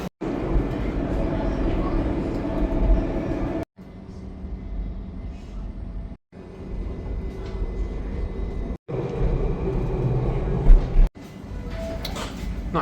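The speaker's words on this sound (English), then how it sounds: "Decided to take the tram to South Terrace" Interior of a tram in Adelaide travelling toward South Terrace, a steady low rumble and rolling noise that carries on with a few brief drops between sections of the ride.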